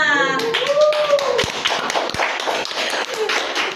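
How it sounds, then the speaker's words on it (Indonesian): An audience at a student talent showcase claps hands in a short, loose burst of scattered claps and taps, with voices sounding underneath. "Oke, tepuk tangan dulu dong buat Salma."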